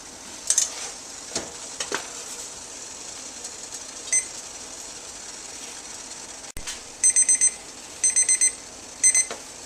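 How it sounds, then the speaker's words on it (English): A kitchen timer goes off beside a covered pot of dehydrated vanilla pudding mix, giving short bursts of high electronic beeps in quick groups after quiet kitchen handling noises, close and clear with no talking. "once your timer goes off,"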